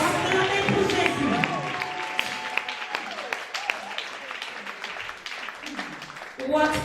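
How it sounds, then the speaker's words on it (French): A church congregation clapping for Jesus after a testimony, a steady spread of hand claps and crowd noise that gradually thins and fades, while a speaker keeps talking over it. "Put your hands together for Jesus."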